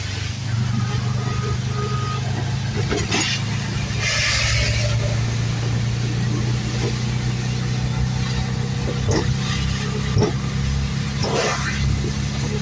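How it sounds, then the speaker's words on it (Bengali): A vehicle drives slowly along a waterlogged road in the rain, its engine a steady low hum under constant rain and splashing noise, with a few brief louder swishes from passing water. "রাস্তায় পানি জমে গেছে তো, আস্তে আস্তে চালাতে হয়, নাহলে লাগে পানি দিয়ে গাড়ি বন্ধ হয়ে যাবে"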